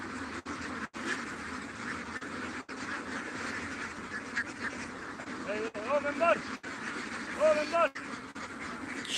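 A large flock of ducks at a farm of about four thousand birds in Sunamganj, quacking and chattering together during feeding, a busy mid-distance din with a person talking over it.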